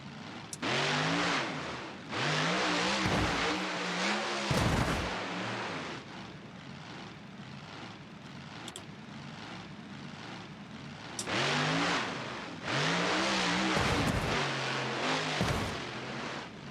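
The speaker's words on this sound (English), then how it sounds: "I've got some different engine sounds on this one." A monster truck's engine (the CRD version) revs hard in the BeamNG.drive driving game. Loud, rising bursts of revving are broken by a quieter, lower stretch in the middle, then the revving surges again.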